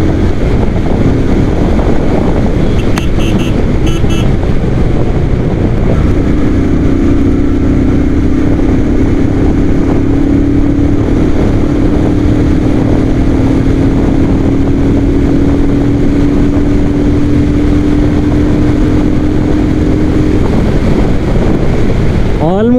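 Loud, steady roar of a motorcycle at speed near 120 on a straight road, thick with wind rush, a rising engine whine running underneath for most of the stretch.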